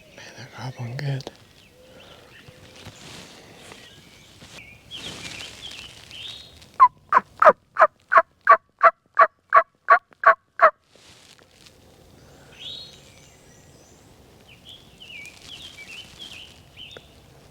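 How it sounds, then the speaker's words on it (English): Wild turkeys gobbling in spring woods on a mountainside, a burst of about a dozen rapid gobbles standing out clearly from quiet surroundings, with faint rustling and soft whispered voices before and after. "Man, they're gobbling good."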